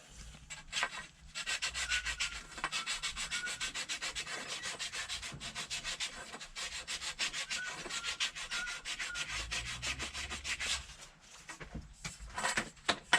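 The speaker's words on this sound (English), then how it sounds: "we'll get some sandpaper on it just to really smoothen it out" Sandpaper rubs steadily back and forth along a homemade fishing pole, a dense raspy scraping that runs almost continuously at close range with brief pauses.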